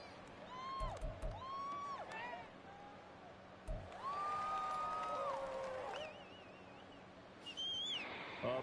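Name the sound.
crowd noise rising in a football video game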